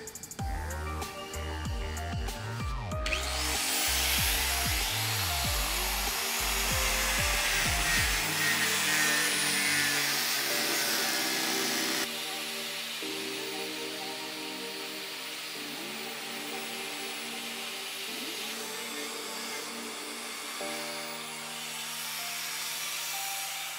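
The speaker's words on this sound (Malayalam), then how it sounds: "അപ്പോൾ നമുക്കിത് സ്പീക്കർ ബൂഫർ കിട്ടിയാനുള്ള പാഡ് കട്ട് ചെയ്തെടുക്കാം." A power tool cuts a round wooden pad to hold a speaker woofer for a DIY tyre speaker, running as a loud, sustained whine and grind. Rhythmic knocking and rattling come through at the start.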